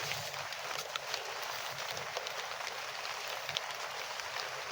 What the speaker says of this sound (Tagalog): Palakas yung ulan na.